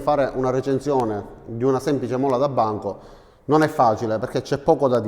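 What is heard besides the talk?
No distinct noise like a dog, phone or traffic.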